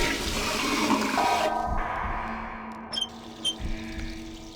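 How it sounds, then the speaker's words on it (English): A toilet flushing in The Suffering video game, a loud rushing gush of water that fades into a quieter refill, with a couple of brief squeaky clinks near the end. "you can flush the toilet and turn on the sink"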